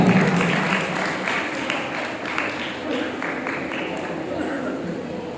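An audience at a mushaira, an Urdu poetry gathering at a government degree college in North Nazimabad, claps continuously in a dense, even wash of applause that fades slightly over the stretch.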